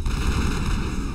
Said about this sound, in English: Huge explosion.